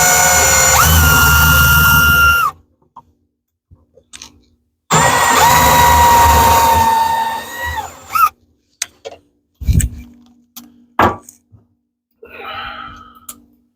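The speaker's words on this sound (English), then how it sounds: "I love these little Milwaukee drills" A small Milwaukee cordless drill whines at high speed in two long, loud, close bursts while building vanity drawers, followed by scattered knocks and clatters of handling and a short quieter whir.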